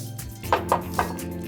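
Flaked imitation crab dropped into curry in a pan, giving three quick soft clinks and thuds about a quarter second apart, close and moderately loud over a quiet kitchen background.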